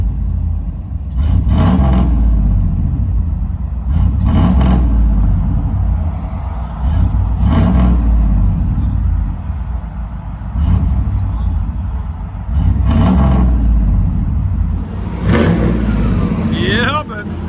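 A 1989 Chevy Suburban with a 5.7L V8 and straight-pipe dual exhaust revs in deep, rumbling bursts, about six rises and falls spaced a few seconds apart, loud and close.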